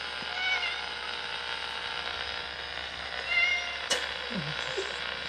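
A cat meows a few times in a quiet indoor room during a paranormal investigation, close and moderately clear over steady background hiss, with a brief sharp click near the end.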